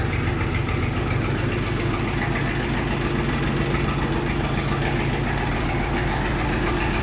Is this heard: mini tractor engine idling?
yes